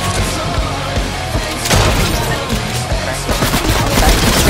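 Video game guns fire in dense, loud bursts of rapid automatic shots that blend into a continuous crackling barrage, with heavier booms mixed in.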